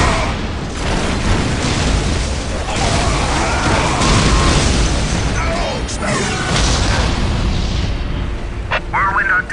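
Whirlwind artillery tank firing in the game Warhammer 40,000: Dawn of War, loud heavy booms and crashes over a dense battle din, with voices shouting nearby.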